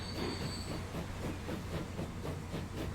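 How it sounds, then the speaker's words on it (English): A train runs in Transport Fever 2, giving a rhythmic clickety-clack of wheels over rail joints with a brief squeal and hiss, steady and moderately quiet. "I haven't set this train onto the food delivery line yet. So let's set him in motion."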